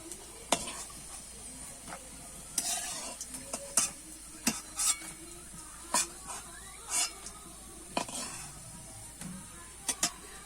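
Fish roe fritters frying in a pan of oil and being turned: a quiet, steady sizzle broken by repeated sharp spatula scrapes and metallic clinks at irregular intervals.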